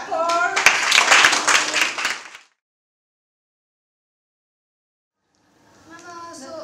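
Children clap in a classroom during a lesson on making shapes with their bodies, a brief burst of quick claps with voices, then silence before a speaker resumes.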